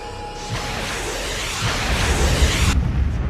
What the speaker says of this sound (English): Fire explosion victory.